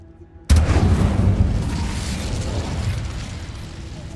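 Fire spell cast in a cave in the video game Hogwarts Legacy, erupting as a loud sudden burst after a quiet moment, then sustained as a dense roaring, crackling rush that fades only slightly.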